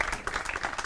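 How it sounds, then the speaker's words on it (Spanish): Brief scattered clapping from a small group in Rabanal del Camino, León, fairly soft and quick, lasting under a second. "yo te doy un aplauso"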